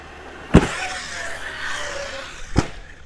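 An Arrma Kraton EXB RC car is bashed off a ramp. Two sharp, loud thumps about two seconds apart mark the landings, with a buzzing motor whine and scuffing in between.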